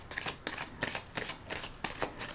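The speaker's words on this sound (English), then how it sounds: "Let me put one more shuffle on." Tarot cards being shuffled by hand, a series of about eight quick riffling bursts in an even rhythm, close and fairly loud with no talking.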